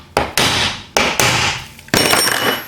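Three sharp, loud metallic hammer blows land close by on the bolts of a Ford T5 five-speed gearbox plate, each ringing briefly before fading, with the last ringing longest.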